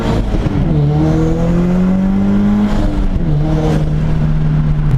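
A Crawford-turbocharged Subaru BRZ running on E85 fuel, making about 12 psi of boost, accelerates hard from inside the cabin, with steady loud engine drone rising in pitch through gears and a brief dip at a shift.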